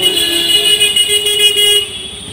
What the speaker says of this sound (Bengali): বৃষ্টি কমার জন্য কিছু গাড়ি আসছে